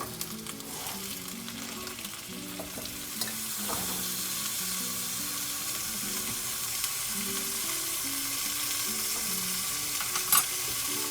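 Meat browning for pot roast sizzles steadily in a pot, a close, continuous frying hiss with faint low knocks and a single small clunk near the end, no talking.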